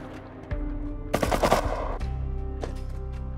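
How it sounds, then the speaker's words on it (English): Gunshots in the video game Rust, a close, loud burst of rapid automatic fire lasting about half a second, set among other game sounds. "I shot him. Headshot him twice."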